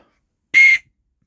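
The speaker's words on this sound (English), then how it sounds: "It's more like a train operator's whistle than a dog whistle." A homemade whistle fashioned from a bullet casing gives one loud, steady shrill blast of about a quarter second, clean and alone in an otherwise quiet space.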